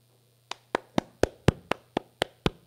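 A single pair of hands claps about ten times in a steady, fairly slow rhythm for a stage guest named Hanno, each clap sharp and close against a low background hum, with no talking.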